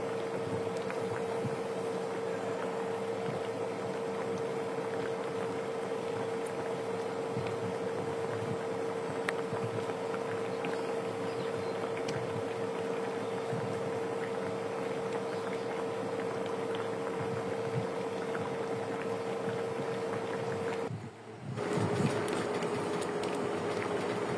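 Coconut chicken curry simmering in a pot, a steady low bubbling with a constant hum running underneath, continuous for most of the stretch before a brief dip near the end.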